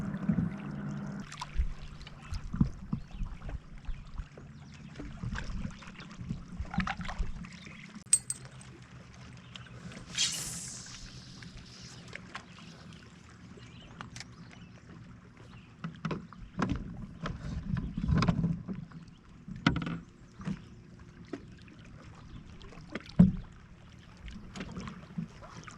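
Canoe paddling on Georgian Bay for evening trolling near Crown land islands: soft irregular paddle strokes and splashes against the hull, with occasional water knocks and faint wind, no talking.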